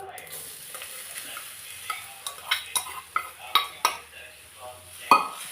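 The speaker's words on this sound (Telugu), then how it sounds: "ఈ పౌడర్ బాగా డ్రై అయ్యేంత వరకు కలుపుకోవాలి." Grated coconut powder stirred in melted ghee until dry, for coconut laddus: a quiet pan with rhythmic spoon scrapes and taps against the metal over a faint sizzle, ending in a louder clink.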